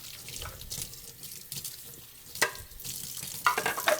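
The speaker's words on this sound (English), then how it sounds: "Just give a quick rinse." Juicer parts get a quick rinse under a running kitchen tap, with a steady hiss of splashing water broken by a few sharp clinks and knocks as the pieces are handled close by.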